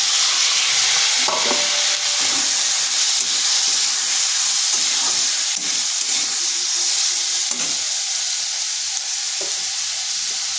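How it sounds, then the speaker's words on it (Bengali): Spring onion greens with chili powder fry in a pan, giving a steady bright sizzle with occasional soft stirring scrapes and clicks throughout. "আঁচটা স্লো আঁচ করে এইভাবে আর কিছুক্ষণ ভেজে নিতে হবে"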